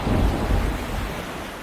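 Stormy sea with thunder, a deep broad rumble and roar that swells early then holds steady, loud and close with no voices.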